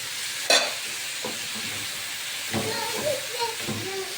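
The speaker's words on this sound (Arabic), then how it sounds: "وهنقلب كل ده مع بعضه" Spiced meat with salt and black pepper being stirred in a hot pan, sizzling softly with a sharp utensil scrape near the start and a few later clinks and scrapes under a steady frying hiss.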